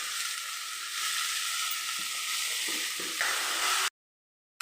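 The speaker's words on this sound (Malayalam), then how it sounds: "അപ്പോൾ ഇനി ഇത് എണ്ണയിൽ കിടന്ന് നല്ല പോലെ ഒന്ന് റെഡി ആവട്ടെ." Sliced onion, tomato and green chilli sizzle steadily in hot oil in a pan, a continuous close hiss with faint stirring scrapes, then a sudden cut to silence near the end.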